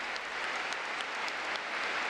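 Vast crowd filling the Rungrado May Day Stadium in Pyongyang keeps up thunderous clapping and cheers, an even, distant roar of countless hands without a break.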